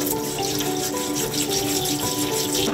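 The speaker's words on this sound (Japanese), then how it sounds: "この土をたわしで丁寧に洗っていきたいと思います。" Water runs steadily from a tap while soil is scrubbed off vegetable peel with a scouring brush, a continuous close rush of flowing water with faint scrubbing underneath.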